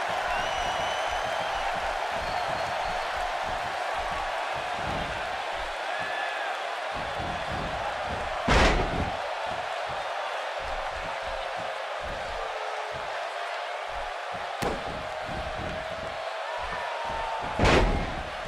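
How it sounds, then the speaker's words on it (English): A wrestler body-slams an opponent in a televised wrestling ring, heard as a few sharp, loud thuds against a steady roar of crowd noise. "And he slams him down."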